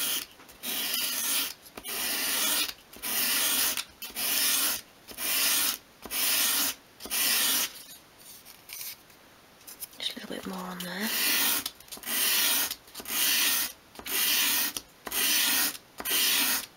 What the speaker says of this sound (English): Using quite a coarse grained sandpaper here.